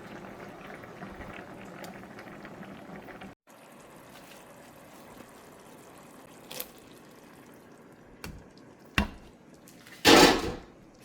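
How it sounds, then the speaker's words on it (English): White wine, butter and garlic sauce simmering in a pan, a soft steady bubbling that runs quietly throughout, broken by a few sharp clinks and a brief louder scrape near the end. "We're just gonna let it simmer for a few minutes before we put the pasta into the sauce."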